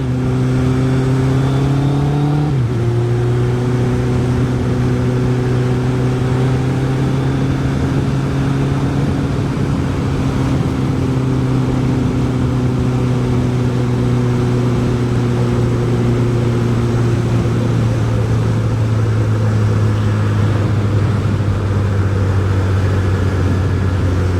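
Suzuki Hayabusa motorcycle engine under way, a loud steady drone that revs up briefly near the start, then holds a long sustained pitch with gradual shifts and wind rush, no voices.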